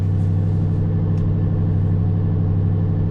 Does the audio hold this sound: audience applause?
no